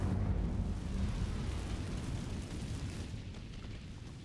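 An Incendio fire spell cast in Hogwarts Legacy, a loud rumbling burst of flame that fades slowly into a roaring, crackling tail, with no talk over it.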